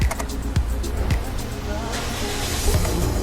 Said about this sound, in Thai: ตัวนี้นะครับเป็นการเสียบกุญแจ เดี๋ยวขออนุญาตสตาร์ทนะครับ